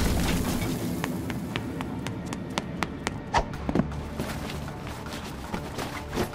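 A big firework goes off in the Roblox video game as a string of sharp pops and crackles over a rumbling bed, with bursts scattered unevenly across the stretch.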